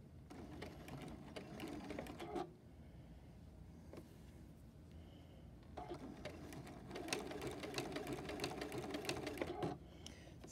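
A quilting sewing machine stitches a folded star hotpad in two loud running bursts, steady whirring stitches separated by a quieter pause where the needle stops and the fabric is turned.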